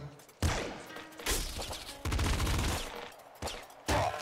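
A pop gun fires in the video game Nuclear Throne, several sharp punchy bursts of rapid shots in separate clusters, loud and close, with brief quiet gaps between volleys.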